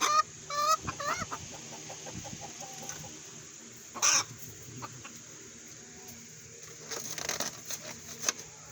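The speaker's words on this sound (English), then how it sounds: "Chickens everywhere." Chickens cluck and squawk around a backyard coop, with a rooster-like call and scattered sharp bursts over steady low rustling, fairly close and moderately loud.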